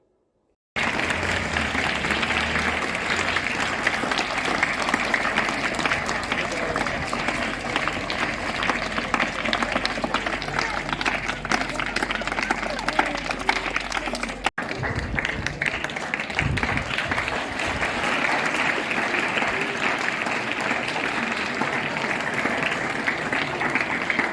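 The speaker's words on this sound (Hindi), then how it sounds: "तालियां बजती रहनी चाहिए।" Applause from an audience at a spiritual gathering, a loud, continuous dense wash of clapping that runs steadily for over twenty seconds with a brief break midway.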